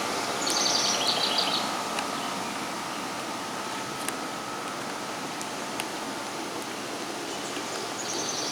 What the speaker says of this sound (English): I don't know if you can hear the birds too.